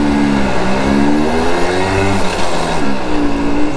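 A Simson Schwalbe moped engine buzzes loud and close while riding, its pitch rising and falling through gear changes, continuous with no talking.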